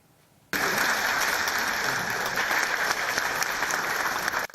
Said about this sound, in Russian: Второй в истории съезд нацсобрания Милләт жиыны приветствуют друг друга аплодисментами.